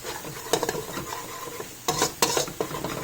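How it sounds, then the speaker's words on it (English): Spices sautéing in oil for brinjal (eggplant) pachadi, with a steady sizzle broken by several bursts of stirring and spoon-on-pan scraping, close and moderately loud, no speech. "sauteing, to make sure that you don't have the raw taste of the spice"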